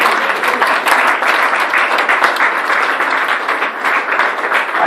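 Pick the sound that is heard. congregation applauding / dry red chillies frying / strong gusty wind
congregation applauding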